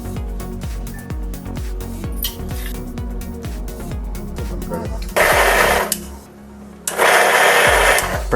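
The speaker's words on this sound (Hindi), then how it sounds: "मिक्सर में पीस लेते हैं।" A mixer grinder whirs with a rapid rattling drone while cooked, cooled tomatoes are ground, then breaks into louder bursts of harsh grinding, briefly pauses, and surges again. A voice is heard at points.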